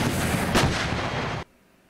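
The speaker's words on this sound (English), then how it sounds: "The Kentucky National Guard is training with a cannon system as part of a live fire exercise" A National Guard cannon system fires during a live fire exercise near Fort Knox, Kentucky: one loud, close boom with a sustained roar that cuts off abruptly, leaving near silence.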